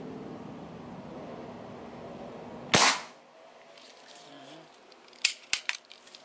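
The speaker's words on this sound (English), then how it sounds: "So let me shoot more pellets before it gets dark." A Crosman 2300KT air pistol fires pellets outdoors, one sharp close crack followed by a short decay, then a few quick sharp clicks and snaps a few seconds later over a steady high hum.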